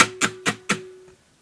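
An acoustic guitar plays four crisp strums of the intro rhythm of a song, with a low note ringing underneath before the sound dies away.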